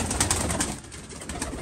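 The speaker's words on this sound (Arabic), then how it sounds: "هاي الطواير" Iraqi pigeons, kept by a breeder in Europe, cooing steadily and close by in a low, continuous murmur over faint background noise.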